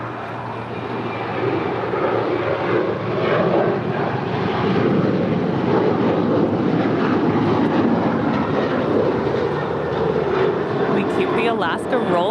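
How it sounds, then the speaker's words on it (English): A six-year-old Alaska Airlines Boeing 737-900ER rolls for takeoff at Los Angeles International Airport, a steady, loud broadband jet roar that holds continuously throughout, with faint radio or speech traces layered underneath. "Alaska rolling 585 off to Seattle. The 6-year-old 737-900ER."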